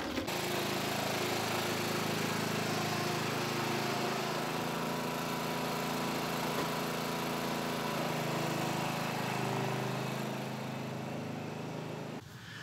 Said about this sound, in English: there's some places you can't ride that mower